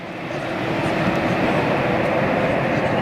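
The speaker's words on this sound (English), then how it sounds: "nice bit of reverser action going on there for Air India" Air India jet landing with its thrust reversers deployed, a loud, steady, broadband engine roar that holds without a break for a few seconds.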